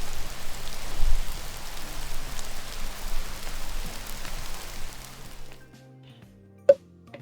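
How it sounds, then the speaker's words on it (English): Steady rain patters on an outdoor surface for several seconds, close and even in texture, then stops abruptly, leaving near-quiet with one sharp knock. "once it stops raining on camera"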